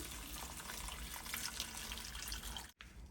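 Hot water poured from a glass into a pan of sautéed drumstick (moringa pod) dry bhaji, a steady close splashing pour lasting nearly three seconds before stopping abruptly.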